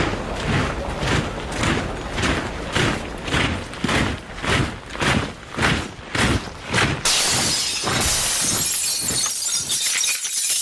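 Glass shatters again and again in a rapid, loud series of crashing breaks evoking Kristallnacht, the Night of Broken Glass, followed by a sustained wash of noise at the end.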